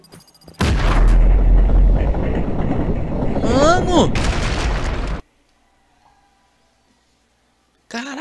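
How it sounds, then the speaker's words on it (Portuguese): A loud, booming bomb blast in Just Cause 3 erupts and rumbles for several seconds with crackling debris, then cuts to near silence; someone shouts briefly over it. "a bombinha fez um estrago do caraca"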